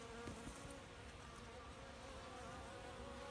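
Honey bees hum and buzz softly while feeding on wax cappings beneath a propped-up crown board, a faint, continuous insect drone with no voices.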